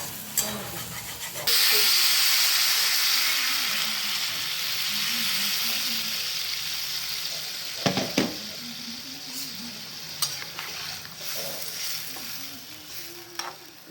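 Spice paste frying and then cauliflower being stirred in for a rohu fish curry, a loud sizzle that bursts in and keeps hissing, broken by scraping stirs and clinks of the spoon.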